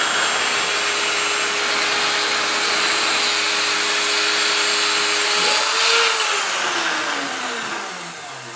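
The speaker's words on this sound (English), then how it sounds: "I got to sand it down." A power sander drones steadily and loudly while sanding a wooden model ship hull, its pitch sliding downward as the tool spins down near the end, with no talking.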